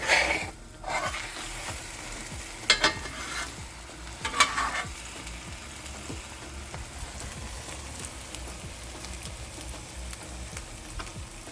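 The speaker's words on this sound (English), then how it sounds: "as we continue to make this cheese omelet right here, it's coming together, falling apart a little bit" A cheese omelet cooks in a pan with a soft, steady sizzle and frying crackle, broken by a few sharp stirring or scraping clinks near the start. It sounds close, with no talking.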